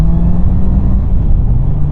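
A 2020 Honda CBR650R motorcycle accelerates while riding, a loud, continuous engine drone with a rising tone and wind rumble, close and unbroken.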